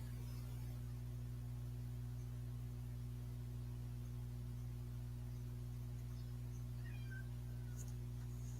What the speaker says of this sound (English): what are you meowing at, boy?